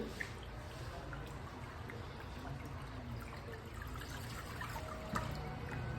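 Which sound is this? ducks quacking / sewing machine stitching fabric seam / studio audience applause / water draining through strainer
water draining through strainer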